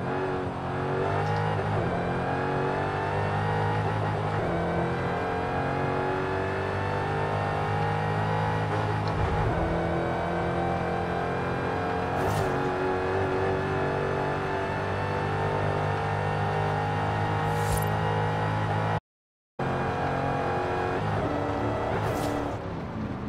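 A stock Dodge Demon in Forza Horizon 5 revs and pulls hard through the gears, a loud, sustained engine drone that rises in pitch and then steps down at each shift. A brief dropout comes near the end, with no talk.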